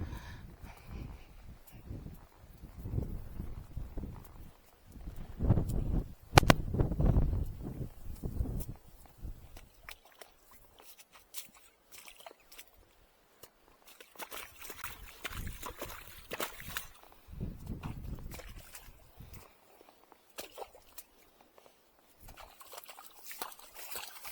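Wet splashing and sloshing as a horse's hooves paw and stamp through a shallow puddle, irregular bursts with quieter gaps, close by.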